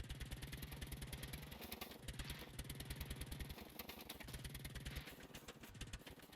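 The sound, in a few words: small putt-putt engine in video game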